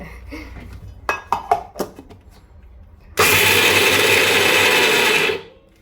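An electric mixer grinder whirs loudly as it grinds garlic and peanuts, first with a few short pulsed bursts, then running as a steady, harsh roar for about two seconds before stopping abruptly.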